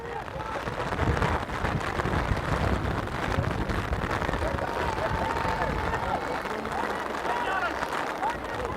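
Crossfield wind gusting into an outdoor microphone at a county junior hurling final, a constant rough low rumble with crowd noise behind a commentator who talks throughout.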